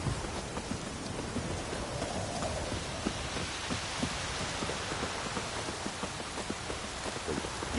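Steady rainfall in The Witcher 3, a dense continuous hiss of drops pattering on surfaces, evenly loud throughout with no talk.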